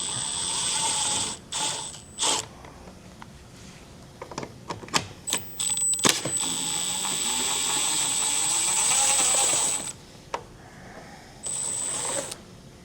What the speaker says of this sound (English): Just want to remove those with a 10mm socket.